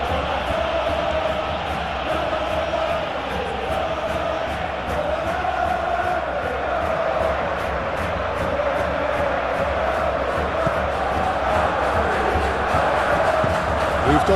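Football stadium crowd at a Champions League match between Arsenal and Atletico Madrid, a loud continuous roar and cheer filling the whole stretch, with faint voices blended in.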